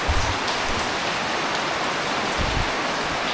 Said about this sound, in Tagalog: Inabutan na kami ng ulan dito sa Matnog.